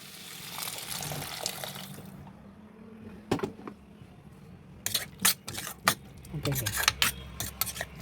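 Water poured into a pan of potato and tomato curry seasoned with chili powder and salt, a steady splashing rush for about two seconds, followed by sharp clinks and knocks of utensils against the pot.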